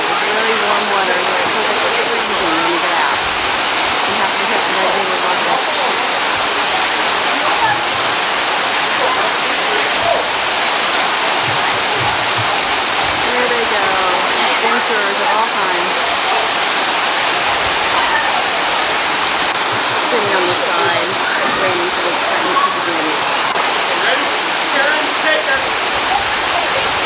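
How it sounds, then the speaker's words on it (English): Waterfall in a small canyon, a steady broadband rush of falling water that fills the whole stretch at a constant, fairly loud level without breaks. "water's falling"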